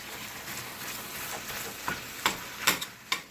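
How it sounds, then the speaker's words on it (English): Ground hamburger meat browning in a soup pot gives a soft, steady sizzle, with occasional spoon knocks and scrapes against the pot growing sharper toward the end. "we're just going to get this all browned up"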